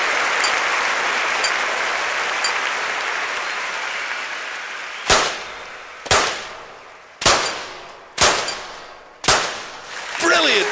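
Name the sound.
skeet shooting gunshots in London 2012 video game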